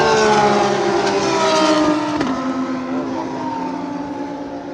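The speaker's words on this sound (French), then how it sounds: "La Porsche est toujours devant. Ça fait un bruit les gars." Porsche race car at speed on a Formula 1 circuit, engine roaring loud and steady with a falling pitch as it passes, continuous and close with no talk.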